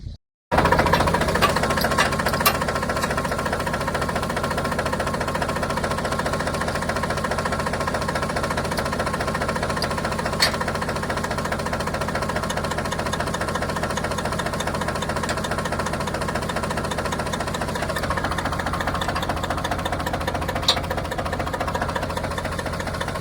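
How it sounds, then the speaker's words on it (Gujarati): A tractor engine, freshly repaired and run for the first time in a long while, starts abruptly after a brief silence and keeps running with a loud, steady, rapid knocking diesel chug close by for the rest of the clip. "હાલો ભાઈ હવે ચાલુ કરીએ આપણે ટ્રેક્ટર."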